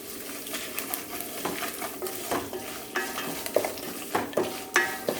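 A spoon stirs amla pulihora with asafoetida in a pan, giving soft sizzling under a series of irregular scraping and clinking strokes against the pan.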